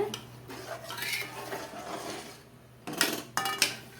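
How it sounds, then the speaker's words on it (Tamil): A spoon scrapes and clinks against a metal pan while semolina (rava) is stirred for kesari, with irregular soft scraping strokes and a few sharper metallic knocks near the end, up close and without talking. "இப்போ நம்ம அதில் ரவை போடுறோம் நல்லா கிளறிட்டே இருக்கணும்"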